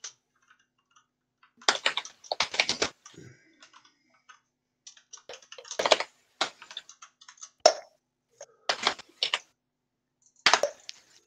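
Computer keyboard typing in uneven bursts of rapid clicks and clacks, separated by short silences, close and fairly loud with no talk over it.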